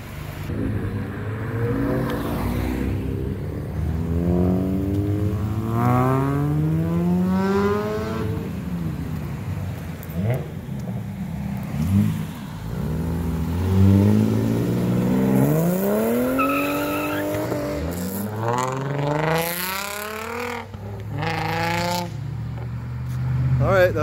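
Cars rev hard and accelerate past in pursuit of a Mazda RX-8, with rising and falling engine notes, gear changes and a tire squeal, nearby and loud, while people talk over the roar.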